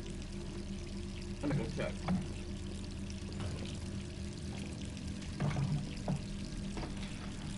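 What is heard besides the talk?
running water pouring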